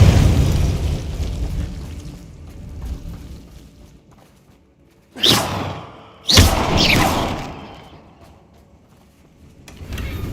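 Confringo blasting spell going off in Hogwarts Legacy: two sharp explosive bursts about a second apart in the middle, each with a hissing, whooshing tail that fades, over a low background rumble.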